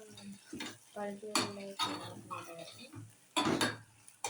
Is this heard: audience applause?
no